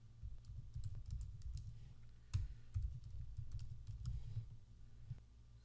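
Rapid, irregular clicks of fingers typing a URL on a computer keyboard, with quiet, close keystrokes continuing throughout and no talking.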